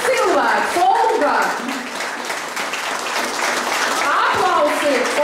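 An audience at a folklore group's 30th anniversary celebration claps in dense, loud applause that swells and holds, with voices calling out over it.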